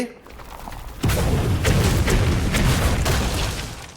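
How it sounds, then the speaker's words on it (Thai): A loud booming explosion bursts out in the video game Hearthstone, followed by a rumbling, crackling blast that fades over a few seconds, close and full. "อุ้ยได้ระเบิดเฉย"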